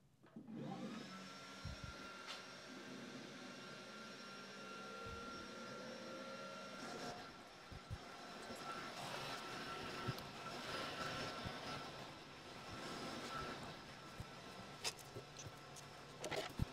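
An Xtool S1 laser engraver runs, engraving on a curved surface, with a steady, fairly loud fan-like whine and hum that holds throughout, plus faint clicks and small shifts in tone.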